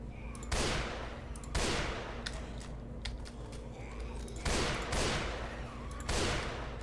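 Repeated bursts of gunfire in Left 4 Dead 2 as players shoot at zombies, loud volleys arriving every second or so in a steady rhythm over a low game background hum.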